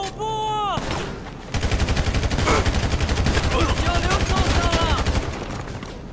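Rapid automatic gunfire in a GTA shootout inside a factory, a loud sustained burst of evenly spaced shots that starts abruptly after a short musical intro and rattles on steadily for several seconds.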